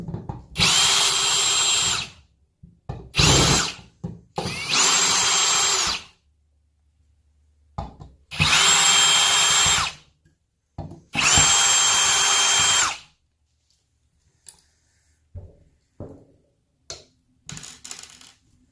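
Power drill backing screws out of LED boards during a warranty board replacement, in several loud whirring bursts of one to three seconds with short pauses, followed by quieter clicks and handling taps of loose screws.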